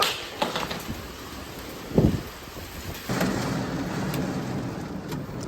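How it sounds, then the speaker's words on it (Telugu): A hailstorm with heavy rain pounds a Tata Nexon car in a village. Scattered impacts and a sharp thud are followed by a dense, steady roar of rain and hail on the car body. "ఇదేం వర్షం అసలు"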